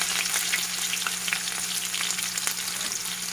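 Green chilies sizzle and crackle in hot oil in a kadhai for a Sindhi kadhi tadka, a steady close frying hiss with small pops throughout and no talking.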